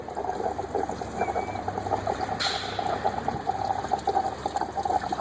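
Coolant drains from a 2004 VW Passat during a thermostat replacement, a steady close trickle and splash of liquid under a faint background hum.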